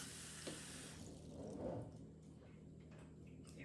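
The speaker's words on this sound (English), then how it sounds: "Let's add the water." Water running from a tap into a new Fruitsaver steam canner during assembly, a soft steady pour with faint splashing that swells briefly midway, close and quiet.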